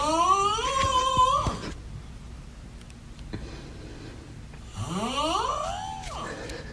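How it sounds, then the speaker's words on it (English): A person snoring loudly, two long drawn-out rasping snores with rising and falling pitch separated by a quiet pause. "This has got to be the most embarrassing snore of all time."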